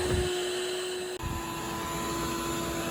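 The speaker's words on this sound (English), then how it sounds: "I got the pump going and the vacuum going, so hopefully it'll hurry things up a little bit" A pool pump and vacuum run together while a pool is being drained, giving a steady, loud mechanical whine and hum with a brief dip partway through and no voices.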